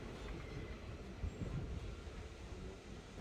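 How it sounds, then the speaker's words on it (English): Virginia & Truckee Railroad excursion train moving through open Nevada country, a steady low rumble of rolling wheels and car noise, moderately close and continuous with no talk. "So the train was just about to its spot to drop us off for the photo run by."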